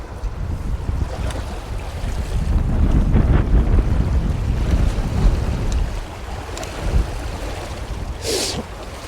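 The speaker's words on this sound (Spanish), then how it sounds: "Está un poco molesto el viento" Wind gusting across an open fishing spot by the water, a steady low rumbling buffet that swells in the middle and eases off, with waves and a faint hiss over the top, and no talking.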